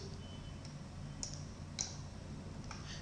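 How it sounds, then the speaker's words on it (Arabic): Several sharp, faint computer mouse clicks, such as right-clicks while managing Microsoft Exchange Server 2010 recipients, spaced irregularly over a low steady hum, with no talk. "تامر ده ممكن اعمل رايت كليك بروبرتيز"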